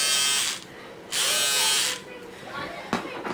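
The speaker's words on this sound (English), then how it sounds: "This is, I think this is a sideburn trimmer." A small battery-powered sideburn trimmer whirs in two short bursts of about half a second and one second, a close, bright electric buzz, followed by brief handling clicks.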